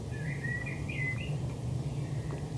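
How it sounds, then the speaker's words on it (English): Birds chirping outdoors in the wilderness, a string of short, bright tweets and trills over a steady low background hum, moderately near and clear with no voices. "You can hear the birds in the background as well."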